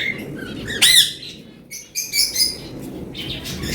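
Parent birds call near a nest box on a farm, loud close squawks and chirps in short bursts, with a brief flutter of wings among them.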